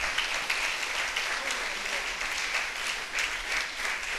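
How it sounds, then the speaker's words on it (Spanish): A church congregation applauds together, a dense, sustained wash of clapping from many hands that holds steady throughout. "bríndele un aplauso a nuestro Señor."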